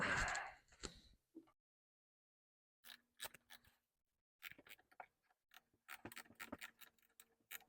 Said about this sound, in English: now we can fit the negative cable to the other side, which is just using an 8mm socket. A little bit tight, get a little spanner.